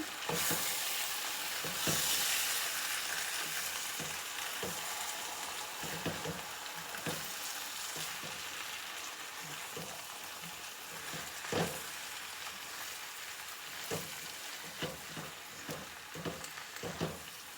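Home fries sizzle in a pan with ketchup and vinegar mixed in, a steady frying hiss broken by repeated scraping, clacking stirs from a utensil at irregular intervals.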